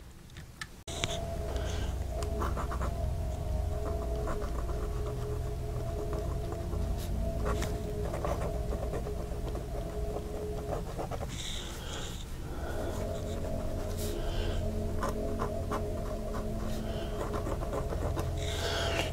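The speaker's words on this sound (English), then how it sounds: "But let's see how that nib works on paper." Waterman Concorde fountain pen nib writing on paper, a faint close scratchy texture in short strokes and pauses over quiet room tone, with no talking.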